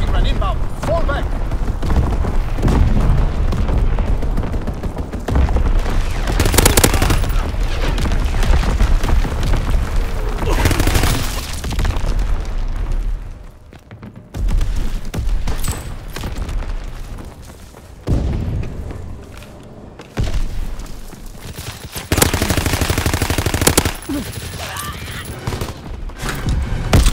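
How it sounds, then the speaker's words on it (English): Heavy artillery booms and strafing-run gunfire from a Call of Duty WW2 multiplayer match, with dense overlapping blasts and bursts rumbling continuously, a brief lull midway, then more loud explosions and fire. "Incoming enemy artillery! Get to cover! Enemy strafing run inbound!"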